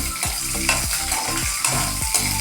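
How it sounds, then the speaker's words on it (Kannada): Chutney ingredients, including chili and tamarind, fry in a pan for idli and dosa, with a steady sizzle broken by repeated scraping stir strokes at a regular rhythm, close and fairly loud, with no talking. "ಇದು ಒಂದು ಎರಡು ನಿಮಿಷದಷ್ಟು ಇದನ್ನ ಹುರಿಬೇಕು"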